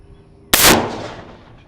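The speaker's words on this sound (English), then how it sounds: "this is our 450 Bushmaster against a sewer lid." A single sharp rifle shot from a .450 Bushmaster striking a steel sewer manhole cover, a loud close crack with a bright metallic ring that decays over about a second.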